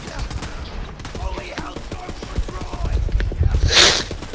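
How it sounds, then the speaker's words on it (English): Rapid gunfire in the Borderlands video game, a dense run of sharp repeated shots crackling at close range, with a brighter burst near the end. "I just see a floating gun angrily shooting people"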